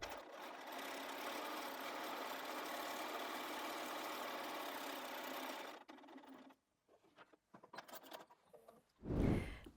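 Sewing machine running continuously as it stitches along a fabric edge, a close, even mechanical hum for several seconds before stopping, followed by soft handling noises and a short thump.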